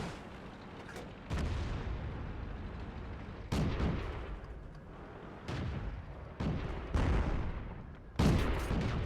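Tank cannon shots in an armored combat video game hit enemy armor as a series of heavy booms, about five or six, spaced a second or two apart. Each blast is followed by a rumbling decay, and no one talks.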